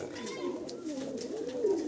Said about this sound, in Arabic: طلعت حمام عراقي طبعا